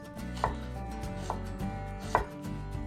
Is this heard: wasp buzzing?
no